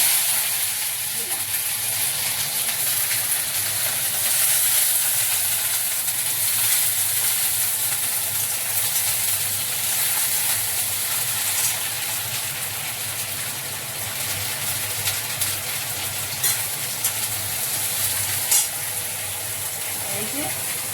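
Vegetables sizzle in hot oil in a kadai, a steady broadband frying hiss that holds close and even throughout with no talk.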